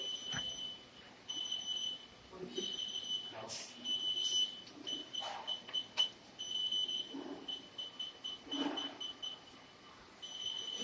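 CNC machine simulator sounding repeated high electronic alarm beeps after a program load fails, steady intermittent tones over quiet room noise with handling clicks.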